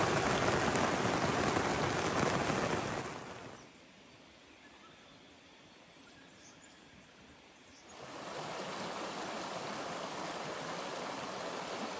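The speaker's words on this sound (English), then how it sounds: "luckily we put the awning out just minutes before the rain came." Steady rain drums on a camp awning as a dense, even hiss that drops to a softer patter for a few seconds, then swells back to full strength, with no voices.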